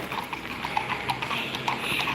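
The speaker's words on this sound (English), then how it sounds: "so those are the horses" Horses' hooves clip-clop on a city street in Salzburg, Austria, a brisk, fairly close rhythmic clatter over steady outdoor background noise, with no talking.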